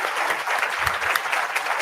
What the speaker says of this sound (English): now we'll clap for you